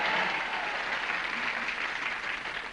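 A studio audience at the Match Game 75 game show claps in steady, sustained applause, a broad even wash that fades slightly toward the end.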